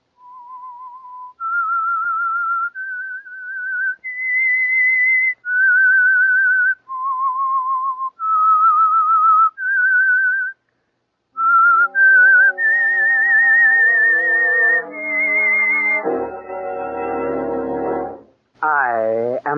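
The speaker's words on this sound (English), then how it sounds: "That whistle is your signal" The theme of the 1947 radio drama The Whistler: a lone whistler carries a slow melody of long, wavering notes, then instruments join in as the tune swells.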